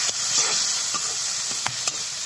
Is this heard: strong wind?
no